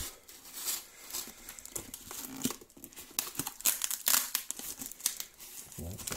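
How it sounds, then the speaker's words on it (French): Package being unwrapped and opened, with close, loud crinkling and crumpling of packaging and occasional tearing throughout, with some speech mixed in. "l'ouverture du paquet"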